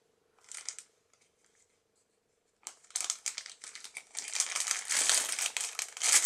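Crinkling of a plastic packet, first a short burst, then a pause, then sustained rustling and crackling that grows louder and busier, close up.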